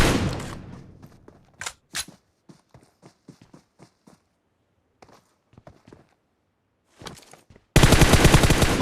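Gunfire in the mobile battle royale game BGMI: a series of short, sharp shot bursts spaced irregularly, ending in a sudden loud, dense volley, with no talk.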